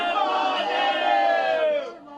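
Devotees at a crowded Shiva temple on the first Monday of Sawan raise a loud, massed chant of Bam Bam Bhole, many voices merging into one sustained roar that fades toward the end.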